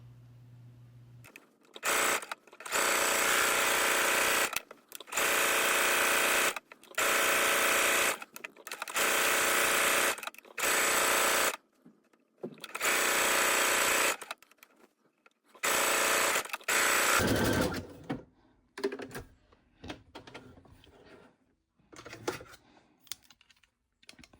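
A sewing machine stitches a lettuce hem around the bottom edge of a shirt. It runs in about eight short, loud bursts of steady whirring separated by brief silences, then gives way to softer handling sounds.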